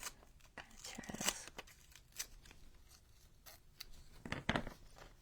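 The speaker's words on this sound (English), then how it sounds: "I'm just going to kind of tear this." Paper is torn by hand for a junk journal collage, giving several quiet, short ripping and crinkling bursts with brief pauses between them.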